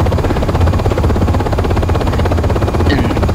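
A simulated UH-60M helicopter lifting off in Aerofly FS 4, its rotor producing a loud, steady, rhythmic chop layered over a constant turbine whine, filling the whole stretch without any voices.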